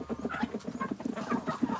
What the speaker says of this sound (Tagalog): kinakain natin yung mga manok